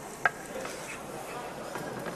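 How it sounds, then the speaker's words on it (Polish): Ginger and chili sizzle gently in vegetable oil that is not yet fully hot, a soft continuous frying hiss with a small clink of stirring near the start. "trzeba około minutę smażyć tutaj na jeszcze niezbyt rozgrzanym tłuszczu imbir oraz chili"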